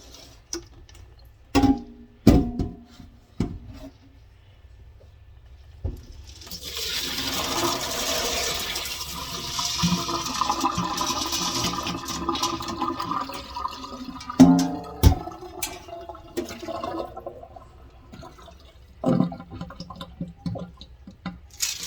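Water running into a container while beans are rinsed for pressure canning, a rushing, splashing pour through the middle with scattered clinks and knocks before and after.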